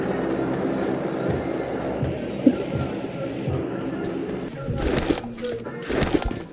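Propeller airplane in the game PUBG passing overhead as a steady broad engine drone, with a louder swell near the end, running under game noise and brief bursts of player chatter.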